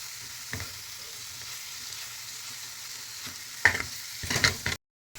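A spice paste with tomato fries on a high flame, hissing steadily while a spoon scrapes and stirs the pan in a few louder bursts near the end, close up before cutting to silence.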